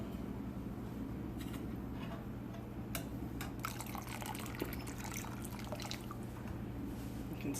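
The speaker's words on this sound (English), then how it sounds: "And now I'm going to pour in the vinegar." Vinegar is poured into goat milk heated to 162 degrees, the flame just shut off, for farmer's cheese. A steady liquid trickle and faint drips run for several seconds over a low, constant hum.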